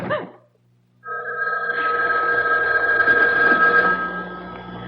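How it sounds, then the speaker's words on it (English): An old-fashioned house telephone rings with a sustained metallic bell trill, loud and close, following a brief fading voice in an old time radio drama. "It was the house phone."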